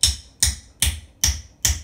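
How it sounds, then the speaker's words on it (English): A hammer beats back and forth on top of a beggar to cut it into four pieces: five sharp, evenly spaced metallic strikes, close and loud, with no talking. "Take the hammer and just beat back and forth on the top."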